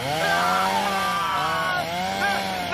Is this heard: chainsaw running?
yes